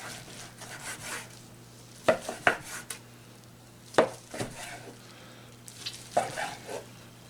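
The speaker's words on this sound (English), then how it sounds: "Slice some of these point here." Knife slicing through the point of a smoked brisket on a cutting board, with several crisp cutting strokes and knocks spaced irregularly over low background hum, close and alone without talk.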